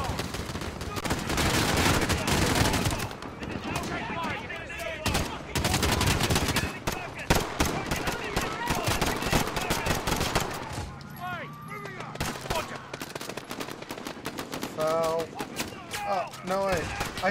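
Heavy Call of Duty Modern Warfare gunfire: dense automatic bursts and rapid single shots crackling close and loud for most of the stretch, easing off near the end while voices speak over scattered shots.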